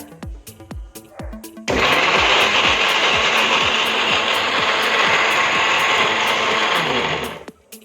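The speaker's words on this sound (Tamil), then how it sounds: "மிக்சியில் போட்டு நல்ல ஒரு ஃபைன் பேஸ்ட்டாக அரைச்சிக்குங்க." A kitchen mixer grinder whirs loudly and steadily for about six seconds as it grinds spices to a fine paste, preceded and followed by sharp mechanical clicks and rattles from the jar.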